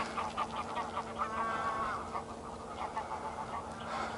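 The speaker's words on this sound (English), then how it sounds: "Large groups of geese going about their business" A flock of geese honks at Loch Leven, the overlapping calls rising and falling continuously at moderate distance over steady outdoor background.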